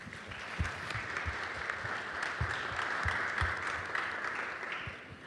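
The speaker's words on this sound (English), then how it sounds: "Let's give them a round of applause." An audience at a blockchain summit panel gives a round of applause, a soft, distant wash of clapping with a few sharper nearby claps standing out.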